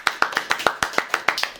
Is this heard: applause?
yes